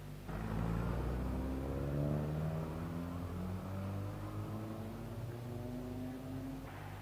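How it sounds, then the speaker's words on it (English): A marshal's car drives the closed public-road course at the Southern 100 races, its engine a steady, fairly close rumble with rising and falling revs that holds throughout. "The marshal's car denoting roads closed"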